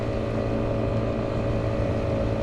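Steady, loud drone of a KTM Duke 125 motorcycle's single-cylinder engine through an aftermarket exhaust, held at a constant idle or rev, close by with no talk.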